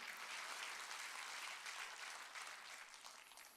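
A church congregation claps together, a soft, distant wash of hands that holds steady for a few seconds and then begins to thin toward the end.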